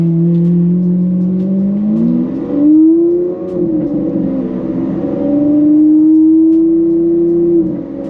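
A Lamborghini Aventador LP 700-4 with its V12 engine under smooth throttle in Corsa mode with paddle shifting. A loud, steady drone rises in pitch and then settles through gentle shifts, heard from inside the cabin.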